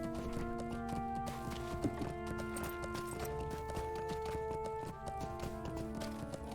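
Steady rhythmic hoofbeats of a horse trotting along in Lord of the Rings Online, a continuous clip-clop over layered sustained in-game music, with no talking.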